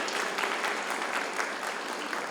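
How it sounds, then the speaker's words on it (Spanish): An audience claps for a speaker after a medical talk on monocytes, macrophages and obesity, with steady, moderately loud applause filling the whole moment. "justamente un aplauso a nuestro ponente"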